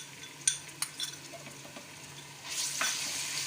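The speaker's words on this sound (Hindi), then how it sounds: "अब इसमें हम अदरक लहसुन का पेस्ट डालेंगे 2 चम्मच" Ginger-garlic paste dropped into onions already frying in a pan for dhaba-style dal mash, giving a few soft clinks and stirring scrapes, then a steady hiss of sizzling oil that swells in the last second, with no talking.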